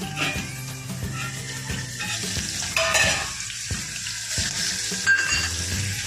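Chopped small onions hit hot oil with curry leaves while cooking a Gujarati moong dal curry, giving a continuous close sizzle with stirring clatter and occasional utensil knocks.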